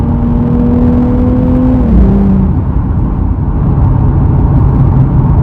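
A Nissan Z Nismo engine revs loudly in sport mode, its steady drone dipping in pitch at an upshift and then building again, heard from inside the car with no talking.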